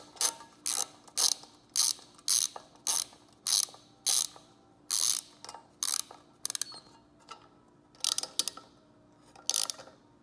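Mini 1/4 inch ratchet driving screws into a small metal toolbox, sharp clicking bursts in quick irregular groups, close and crisp with quiet gaps between strokes.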